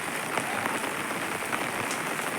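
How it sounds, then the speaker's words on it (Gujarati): Steady rain patters on surfaces, a dense even hiss with scattered louder drops, continuous throughout. "વરસાદ બંધ જ નથી જો ચાલુ જ છે"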